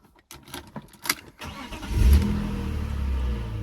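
A BMW E36 M3 converted to a manual gearbox cranks briefly, then its engine catches and settles into a loud, steady idle with a deep rumble close by.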